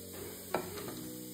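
Grated fresh coconut is stir-roasted over low heat in a hot kadhai, a soft sizzle under a faint steady hiss, with one clear scrape or tap of the spatula partway through.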